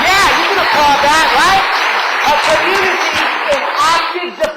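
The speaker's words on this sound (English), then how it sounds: "you can applaud that," A political speech audience applauds and cheers loudly, with voices rising over the clapping throughout.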